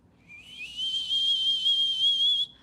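A voice imitates a whistling teapot with a single sustained, shrill high whistle that rises in, holds steady for about two seconds, then cuts off abruptly, alone without talk.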